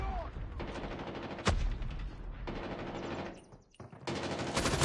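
Rapid automatic gunfire rattles in bursts during a Call of Duty Mobile multiplayer match, with sharp single shots and brief gaps between volleys, loud and close.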